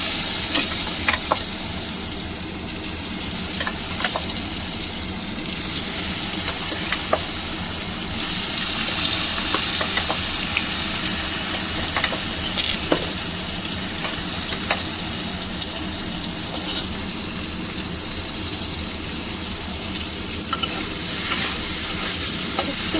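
Lightly boiled taro frying in oil with black cumin seeds in a pan, a steady loud sizzle and crackle throughout with scattered clicks from stirring, close up and continuous with no talking.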